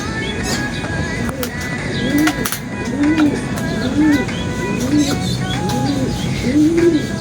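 Racing pigeons coo in a series of soft, low, rolling calls roughly once a second, close by, over a steady background hum with scattered chirps and faint clatter.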